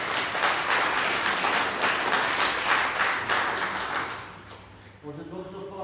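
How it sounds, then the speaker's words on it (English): A church congregation at a Sunday communion service breaks into sustained, dense applause that fills the room, then tapers off before a voice begins speaking. "Just a random applause."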